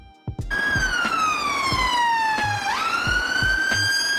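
An Irish ambulance siren wails loud and close in a long, slowly falling tone that snaps back upward, with rhythmic low thumps running beneath it.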